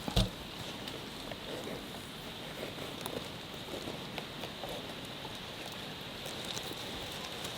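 Rain falling steadily outdoors while mushrooms are gathered in Thailand, a dense, even patter of drops sustained throughout, moderately faint with a sharp tap near the start.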